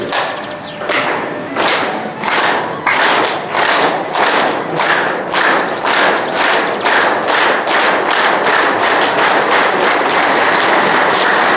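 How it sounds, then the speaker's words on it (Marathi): An audience at a lecture claps in unison, a steady rhythmic beat of loud, close hand claps that gradually speeds up, with no talking over it. "आता तुम्ही टाळ्या आता वाजवल्या"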